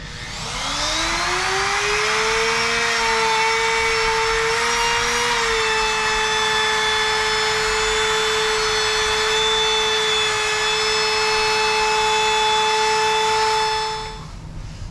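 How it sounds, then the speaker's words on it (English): A handheld trim router chamfers the edges of a wooden cutting board, a loud sustained high-pitched whine that ramps up at the start, holds steady with cutting noise for about thirteen seconds, then winds down. "I'm going to put a nice chamfer on the edges here to just flatten them out, smooth them out. I'm going to use my trim router."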